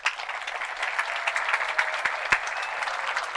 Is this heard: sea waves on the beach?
no